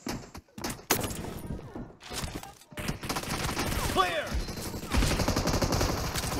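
Rapid bursts of automatic gunfire in PUBG Mobile, loud and close, with volleys and scattered shots clustering through the second half amid a chaotic in-game firefight.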